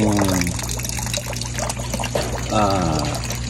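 Water overflowing from a utility box and pouring into a floor drain, a steady close splashing trickle with someone talking over it.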